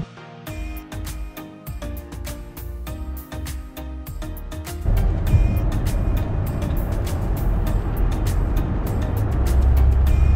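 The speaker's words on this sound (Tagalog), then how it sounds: "So ngayon nasa highway tayo." A car travels along a highway in Canada, with loud, continuous road and engine rumble that grows heavier and denser halfway through, and no talk.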